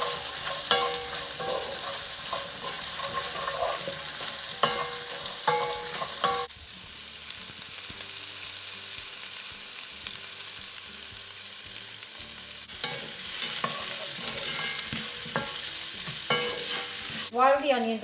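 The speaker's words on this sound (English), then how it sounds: "then the onions, and I'm going to cook this for good 10 to 15 minutes until they're nice and golden." Onions fry in a pan with a steady sizzle while a utensil scrapes and stirs them in repeated bursts, close and moderately quiet, with a calmer stretch of plain sizzling in the middle.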